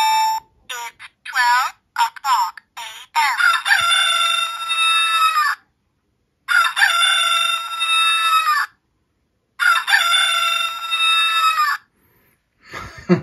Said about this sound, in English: we can actually make it do the rooster crow whenever we want